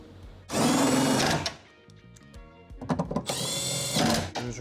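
A power tool on a Tesla Model YL door runs in two loud, close bursts on a 10mm bolt, with lighter clicks and handling noise between them.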